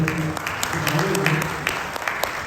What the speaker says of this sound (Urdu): آپ اپنے لیے تالیاں بجائیے